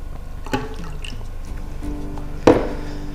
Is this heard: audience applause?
no